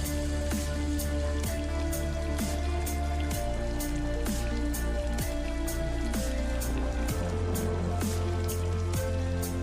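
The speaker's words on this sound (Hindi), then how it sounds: "आसमान से होने वाली करोड़ों टन की बारिश हमारे ज़मीन को उपजाऊ बनाती है।" Steady heavy rain pours down, a dense hiss of drops striking surfaces with scattered louder splashes and drips throughout.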